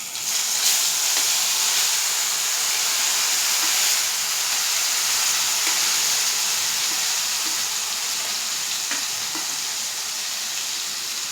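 Okra fries in hot oil with mustard seeds over a low flame, giving a steady, loud, close sizzle and hiss that holds constant throughout, with faint stirring ticks.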